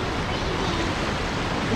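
Rushing water of the Taquamenon River at the lower falls, a steady broadband roar filling the whole clip, close and loud, heard while wading across.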